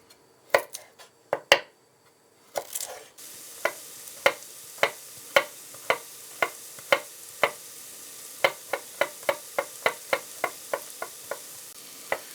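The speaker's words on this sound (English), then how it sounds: "I'm going to squash the garlics" Garlic cloves are squashed for a cottage pie with a series of sharp, regular knocks and presses, close and distinct, while a soft sizzle from a pan of sweating vegetables runs underneath.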